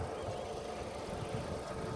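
A BMW 535i engine idles with a gurgling note, a steady, fairly quiet low rumble that runs evenly throughout with no talk over it.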